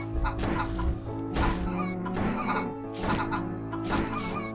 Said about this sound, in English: it's kind of comical watching all the chickens run around